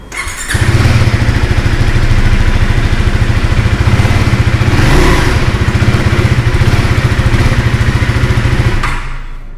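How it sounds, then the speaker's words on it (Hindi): A 2024 KTM Duke 390 motorcycle's exhaust fires up and runs loud and close, a steady pulsing thrum with a rising rev swell midway before cutting off near the end, no voices over it. "तो चलिए अब आप लोगों को ना इसका एग्जॉस्ट साउंड सुनाते हैं।"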